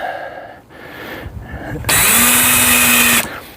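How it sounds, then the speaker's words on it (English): A power drill whines up to a steady high-pitched spin for about a second and a half as it drives into wood, following quieter mechanical shuffling and handling noise. "using a drill, you kind of want to make sure you take your time, don't go too fast"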